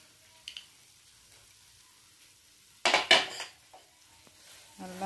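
A spoon stirs beetroot halwa with cashews and raisins in a pan, giving a loud scraping, squishing burst in the middle that stands out against near-silence, with faint utensil touches before and after.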